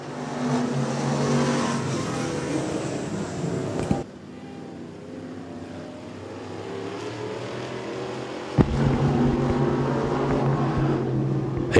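Race cars taking the green flag at Boyds Speedway, a loud roar of several engines that dips abruptly, then surges back as the pack accelerates, with no talk.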